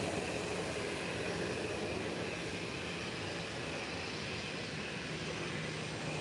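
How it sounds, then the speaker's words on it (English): A TUI Boeing 737-800 bound for Brussels at Málaga Costa del Sol Airport, heard as a fairly quiet, distant, continuous jet rumble and rush that stays level with no talking. "This TUI 737-800 is going to Brussels."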